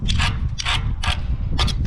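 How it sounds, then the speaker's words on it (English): Putty knife scraping a fiberglass boom on a Terex Hi Ranger 5TC55, with four or five rhythmic, close rasping strokes over a low background rumble. "Putty knife."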